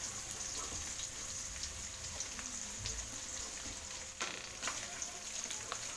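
Shallots and garlic frying in about three tablespoons of cooking oil for a spicy-sweet water spinach and shrimp stir-fry, giving a steady close hiss of sizzling with small crackles throughout and no talking.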